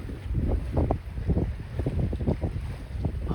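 Hans Christian 48T sailboat moving at about 3.5 knots under genoa alone, with steady wind buffeting and low rumbling water wash against the hull, close and continuous.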